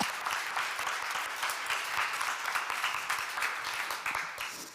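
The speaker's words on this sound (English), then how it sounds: "give a warm round of applause to this panel" An audience at a gender equality policy panel event gives a sustained round of applause, dense even clapping filling the room for several seconds with no speech over it.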